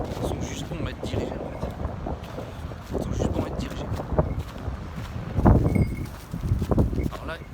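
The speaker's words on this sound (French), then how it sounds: "Alors là, il y a un peu de vent." Wind gusts blow outdoors across a microphone in open country, giving a steady rough rumble with a stronger gust midway, while someone talks in French over it.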